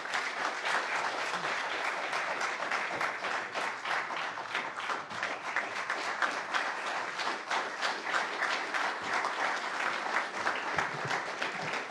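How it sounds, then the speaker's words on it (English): An audience applauds Congressman Pat Ryan at an event in Poughkeepsie with Governor Kathy Hochul. Dense, steady clapping from a sizable crowd fills nearly twelve seconds at an even volume. "Let's give a round of applause to our Congressman,"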